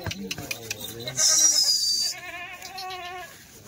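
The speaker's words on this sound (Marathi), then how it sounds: "दादा शेळ्या केवढ्या आहेत त्या" Goats at a livestock sale bleat in a long wavering cry near the mic, with people talking nearby before and during the calls and a brief hiss of noise.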